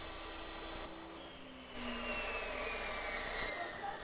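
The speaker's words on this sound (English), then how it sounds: "hold the hose at a 45-degree angle to the wheel and grind down the outside hose edge" A hose edge is ground on a spinning wheel during hydraulic hose assembly, a steady loud whirring roar with a faint high whine, growing slightly louder partway through.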